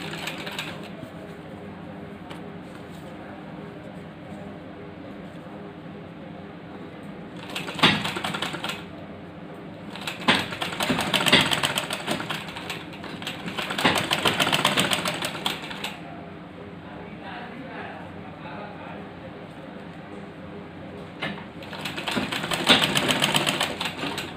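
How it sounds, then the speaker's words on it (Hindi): A sewing machine stitches the edge of a folded fabric face mask in several separate bursts of rapid mechanical clatter, with quieter pauses between runs. "किनारे से थोड़ा सा बेंड करके मशीन से इसमें स्टिचिंग करनी है आपको"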